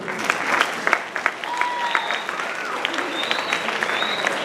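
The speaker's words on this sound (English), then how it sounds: "Can we applaud the band one more time?" A school-event audience at a house meeting claps for the band in a lively, dense round of applause with a few whoops and crowd voices mixed in, sustained throughout.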